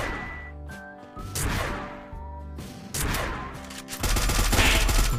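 Video game gunfire lands a headshot, heard as a mix of sharp shots, bursts and impact cracks amid other game effects, ending in a dense noisy flurry; no speech.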